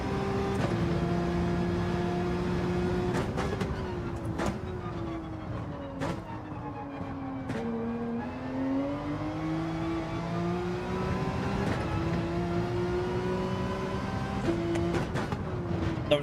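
Porsche race car in Gran Turismo 7 lapping Daytona, its engine a loud continuous drone that rises and falls with throttle and gear changes, with several brief upshift breaks and no talking.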